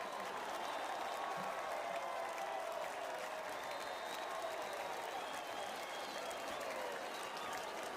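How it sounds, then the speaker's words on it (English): A crowd at a college football semifinal game claps steadily throughout as a dense, distant wash of applause, with no pauses. "You hear the crowd clapping it up."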